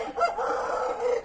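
A rooster, sire of a crossbred chicken from a Colorau rooster and Polish-type hens, gives a loud close crow mixed with clucking notes, a single short burst with no voices.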